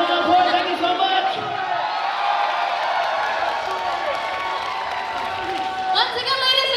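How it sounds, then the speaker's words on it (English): Audience at a live convention concert at Asia Comic Con in Kuala Lumpur, Malaysia, applauding and cheering: a dense, sustained wash of clapping and shouts from a large crowd, with a voice speaking over it. "another big round of applause for Jason"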